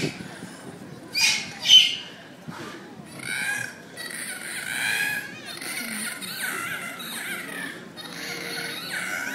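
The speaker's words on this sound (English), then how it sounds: "if you listen really carefully, you might actually hear some of the different vocals from our dolphins." Pacific white-sided dolphins vocalizing during an aquarium show, high squeaky whistles and squawk-like calls in short bursts over a noisy crowd background, moderately loud.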